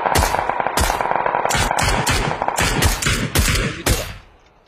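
Rapid bursts of automatic gunfire from a shooter video game, loud and close, with repeated sharp cracks in quick clusters that fade out near the end.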